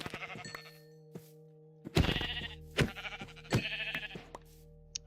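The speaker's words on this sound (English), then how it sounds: "It seems they're all just white sheep." White sheep in Minecraft give several loud, close bleats in quick succession, separated by short pauses, alone without talk.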